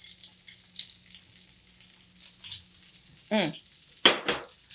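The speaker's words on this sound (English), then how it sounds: "And then just those fresh sliced tomatoes." Fresh sliced tomatoes and red pepper flakes sizzle and fry steadily in a hot pan for a spicy steamed mussels dish, with a brief stirring clatter near the end.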